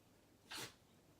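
One quick, sharp sneeze cuts through a quiet room during a live face-painting session, with faint background hiss before and after.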